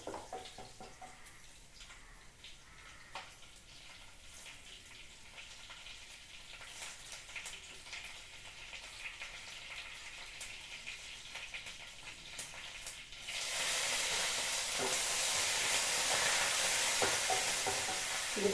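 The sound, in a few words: vadagam frying in hot oil for tempering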